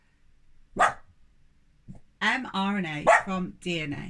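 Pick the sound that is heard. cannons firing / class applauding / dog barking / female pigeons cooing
dog barking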